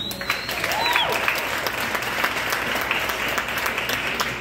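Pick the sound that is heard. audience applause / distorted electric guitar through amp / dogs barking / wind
audience applause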